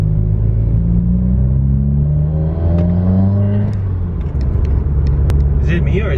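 A Subaru WRX with a new charge pipe is given a little gas, its engine rumbling and rising briefly in a low rev near the microphone, followed by a faint hiss and small clicks.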